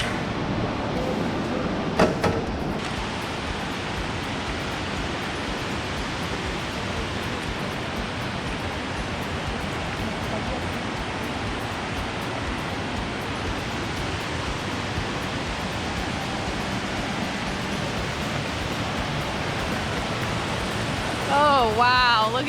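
A river in Tallulah Gorge rushes in a steady, broad roar of flowing water that holds at an even level throughout, with a brief voice rising over it near the end.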